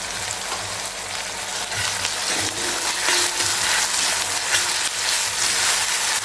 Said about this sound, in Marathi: आपल्याला हे दोन ते तीन मिनटंच परतून घ्यायचं आहे